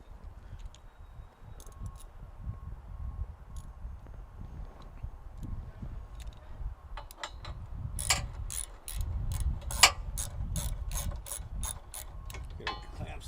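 A hand ratchet turns a factory bolt while slider steps are fitted on a Jeep JK Rubicon. Quiet at first, then a fast run of crisp clicks sets in near the end, close and clear, with no voices.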